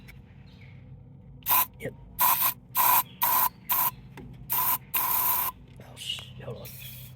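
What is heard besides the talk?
spraying WD-40 into a chainsaw spark plug hole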